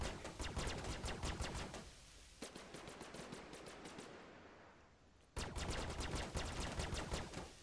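Rapid automatic gunfire from a ship shooting at the player in the space game Star Citizen, loud bursts of dense repeated shots with a quieter lull in the middle before the barrage resumes; no talk.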